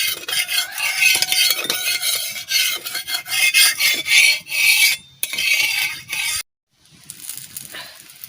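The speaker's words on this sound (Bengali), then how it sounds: "চামচ দিয়ে একটু নাড়াই চাড়াই দিই।" A spoon scrapes and stirs white oil across a hot tawa griddle, a loud continuous rasping with uneven strokes that breaks off briefly near the end.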